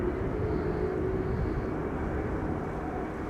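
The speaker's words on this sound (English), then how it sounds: "The audio, the mic is probably picking up a GE90 being started." A GE90 jet engine runs up at Amsterdam Schiphol Airport on a windy day, giving a steady, continuous roar with a low rumble and a faint sustained whine, heard from a distance with no voices.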